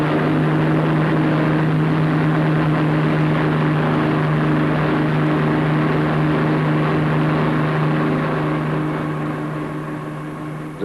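The engines of a heavy bomber loaded with about 22,000 pounds of bombs and 20,000 gallons of fuel drone loudly and steadily during takeoff, a dense continuous propeller roar that fades slightly at the end.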